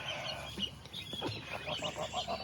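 A flock of geese with goslings, mixed with ducklings, honks and clucks in short repeated calls at moderate distance, faint and outdoors, with no talk over them.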